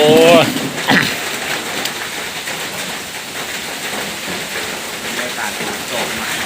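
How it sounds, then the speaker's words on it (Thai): Steady rain pours down close by, a dense hiss that continues throughout, with a voice briefly heard at the start. "ฝนตกครับ"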